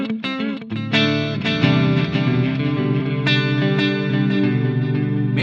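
Electric guitar played through an Eventide H3000 on a single pitch-shift preset, a subtle doubled shimmer over clean sustained chords and picked notes, continuous and fairly loud with no talking.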